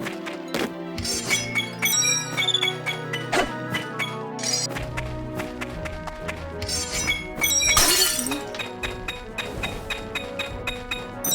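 Repeated glassy shattering and crashing hits of objects breaking in a game, layered over music, several sharp bursts with a big crash near the end.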